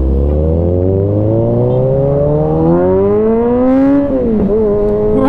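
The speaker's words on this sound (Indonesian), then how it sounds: "suara 4 silindernya tuh beda ya sama ZX25" Kawasaki Z900RS inline four-cylinder engine fitted with an Arrow exhaust, revving loud and close in one smooth rising pull that climbs steadily in pitch, briefly dips, then holds a high steady drone, with no voices.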